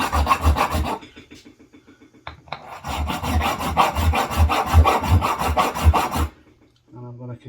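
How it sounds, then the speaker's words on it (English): A hand file rasping back and forth across a spare nut, part of taking apart a Yanmar 2GM20 sea water pump aboard a boat. The strokes come in a steady run of loud, close, gritty passes, with a pause partway through before filing resumes. "I'm going to continue with a file. See if we can get down to the threads."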